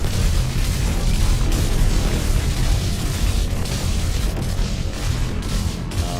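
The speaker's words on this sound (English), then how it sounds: "The explosions are non-stop." Missiles and explosions go off without pause in the space game Starforged Legacy, forming a loud, dense wall of booming rumble that runs throughout with no talking.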